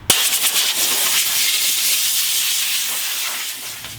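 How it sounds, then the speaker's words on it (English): An air blow gun blasts a steady, loud hiss of compressed air over a car frame being dried before undercoating, starting with a sharp burst and holding for several seconds on its own. "any intricate area you can blow out using this gun"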